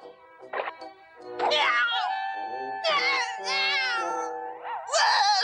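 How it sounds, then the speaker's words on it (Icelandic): A cartoon black cat meows repeatedly in drawn-out, wavering cries, close and fairly loud, with short gaps between calls. "Svartur köttur!"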